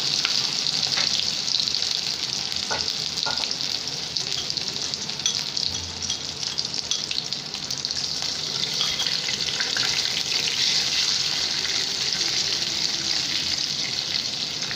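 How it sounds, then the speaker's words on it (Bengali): A ground spice paste for raw banana kofta curry sizzles and spatters in hot oil, a steady close frying hiss with occasional stirring scrapes and a few brief clinks, with no talk over it. "এবার আমি এই মশলাটা তেলের সাথে খুব ভালো করে ভাজবো"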